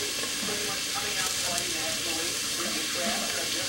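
Tap water runs steadily into a sink as fresh celery stalks are rinsed for a vegan cream of broccoli soup, a continuous close hiss with no break.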